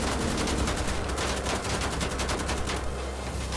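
Dense, continuous automatic gunfire from the shooter game Wolfenstein: The Old Blood rattles loudly and without a break, rapid repeated shots stacked into a sustained barrage with no speech.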